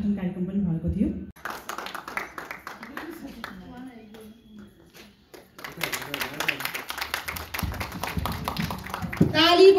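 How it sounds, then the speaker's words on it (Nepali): An audience claps at a women's group general assembly and award ceremony, the clapping rising in the second half of the clip alongside voices talking and calling out. "ताली बजाइदिनु होला है"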